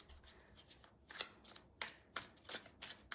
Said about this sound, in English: hand-to-hand shuffle.